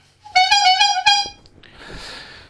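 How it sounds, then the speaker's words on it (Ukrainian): A loud, brassy klaxon horn on a restored KMZ K1V motor carriage sounds twice in quick succession, close by, followed by a softer hissing rush as it fades. "І, звісно, що звуковий клаксон."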